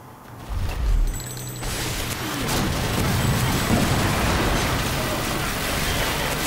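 Gunfire and explosions from the video game Toy Soldiers: Cold War form a loud, dense, continuous roar of blasts and rattling fire, with one heavy boom near the start.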